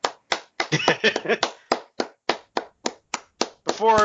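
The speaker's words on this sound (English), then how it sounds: "Round of applause." A dozen or so slow, separate hand claps at a steady pace, with a burst of voice in the middle and a voice at the end.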